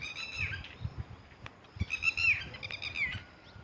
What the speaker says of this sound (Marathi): पाखरांचा आवाज बघा